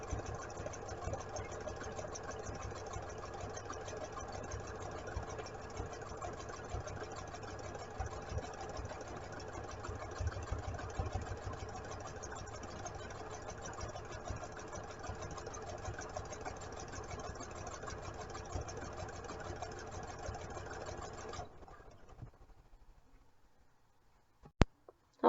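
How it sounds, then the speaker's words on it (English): A sewing machine runs steadily as it stitches a neckband onto a raglan nursing t-shirt at a half-inch seam allowance. It keeps an even motor hum for about 21 seconds, then stops, leaving near silence and a couple of faint clicks. "I have the neckband all sewn together, all sewn on"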